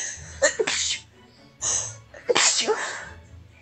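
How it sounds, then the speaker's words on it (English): Two sneezes burst out from a person playing a mobile game, each a loud, close, sharp explosive puff with a breathy intake before, separated by a short gap and quiet background. "I'm gonna sneeze. Oh no."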